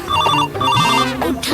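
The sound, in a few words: phone ringing with incoming call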